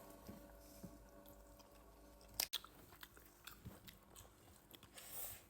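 Someone bites and chews cooked meat up close while tasting it late at night, with soft wet chewing, one sharp crunching bite midway, and faint scraping around it.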